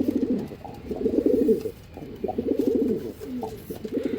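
Andhra line pigeons cooing in repeated low, throaty bursts, several overlapping rolling coos close by with brief pauses between phrases.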